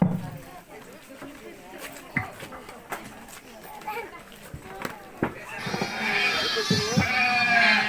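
Several sheep bleat at intervals amid people talking and calling out, with a rising rustle of movement toward the end.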